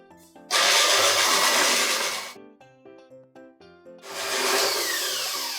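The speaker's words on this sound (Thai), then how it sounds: "ระหว่างนี้เราก็เปิดตัวที่ปั่นที่ตีไปด้วย" An electric mixer beats cream with fresh milk for a taro cake, a loud steady whir running in two long bursts with quieter music between them.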